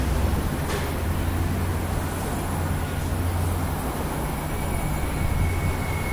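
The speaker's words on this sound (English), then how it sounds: "we're just gonna watch one more train come through here" A Mandurah Line train rumbles steadily through a station nearby, a constant low roar of wheels and engine with faint high rail squeal.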